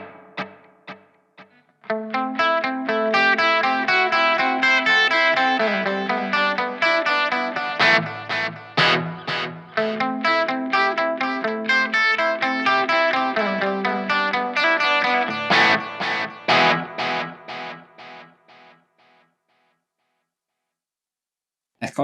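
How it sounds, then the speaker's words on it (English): Electric guitar through the digital delay effect of a Positive Grid Spark practice amp, with distorted, chorused notes and chords whose repeating echoes trail off. It is played for about eighteen seconds, then the echoes fade to silence. "So digital delay, you can tap in on the amp as well, the BPM, or you can just adjust it yourself."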